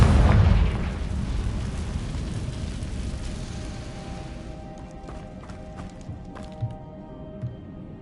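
A Confringo fire spell blasts in Hogwarts Legacy, a loud booming burst at the start that quickly decays into a rumbling tail with a few faint later thumps, no talk.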